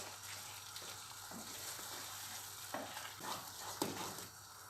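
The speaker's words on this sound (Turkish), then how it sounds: "Şunu da biraz daha böyle hızlı seri karıştırıyorum." Semolina halva cooked with milk is stirred quickly in a pan, a soft close scraping and wet slapping that repeats in uneven strokes over a faint steady hum.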